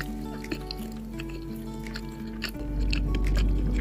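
Someone wearing newly fitted braces chews soft cashew nuts close to the microphone, with repeated wet, soft crunches and squishes over a low steady hum and faint background music.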